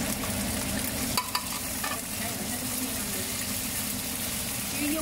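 Potatoes and beans fry in a pan with a steady, loud sizzle, with a few faint clinks of stirring.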